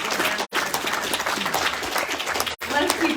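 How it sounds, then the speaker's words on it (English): Audience applause at an evening talk on sharks of Washington: steady clapping from a crowd, with a voice speaking over it and two brief dropouts in the sound. "Let's keep that applause going."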